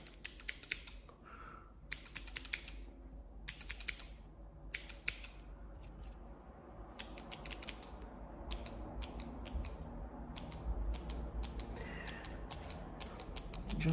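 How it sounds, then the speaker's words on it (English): Scissors snip through hair in quick clusters of sharp metallic cuts, close and fairly quiet, with short pauses between bursts and no talking. "I think it's time to grab the scissors."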